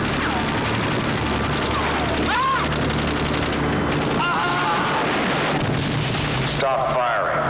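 Heavy gunfire and explosions in a 1982 action film trailer featuring an armored battle truck, loud continuous bursts with booms under a dense, busy mix.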